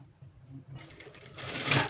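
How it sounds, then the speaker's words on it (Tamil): Sewing machine stitching the shoulder seam of a blouse, a quiet start building into a louder, steady run of rapid needle chatter toward the end. "இந்த ஷோல்டர் இணைக்கும் போது தைல டைட் வச்சு இணைக்கணும்"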